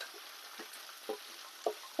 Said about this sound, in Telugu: పచ్చిమిరపకాయలతో పాటు బెండకాయలు వేపుకుందాం